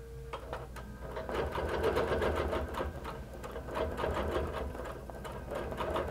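A QBOT V3 quilting sewing machine stitching at a steady rapid rhythm, its motor whirring and needle chattering continuously at moderate volume close by.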